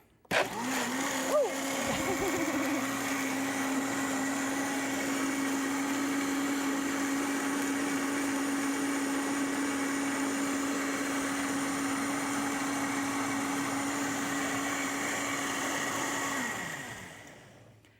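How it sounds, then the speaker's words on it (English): A blender blending cashews whirs loudly and steadily for about fifteen seconds after switching on, its motor droning at a constant pitch before winding down. "You just put everything right in the blender. And we're just going to turn this on for a little bit."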